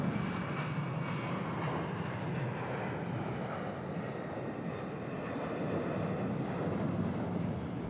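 Airplane passing over a golf course during the Open Championship, a steady broad roaring engine drone holding at constant loudness throughout, with no speech.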